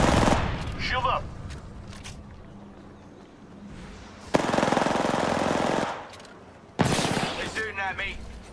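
Automatic gunfire in the Apex Legends video game, loud sustained bursts from about 4.3 to 6 seconds and again from 6.8 seconds onward, with a person talking over the opening stretch.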